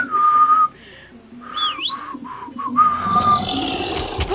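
A character whistles in the video game Far Cry 6, short clear tones followed by rising and falling slides, then a longer held note as rougher background noise swells, with no speech.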